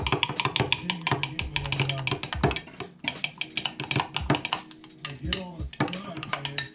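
Green glitter gets stirred into liquid soft-plastic lure mixture, giving fast, rhythmic tapping and scraping against a container. The sound is close and fairly quiet, with brief tonal squeaks.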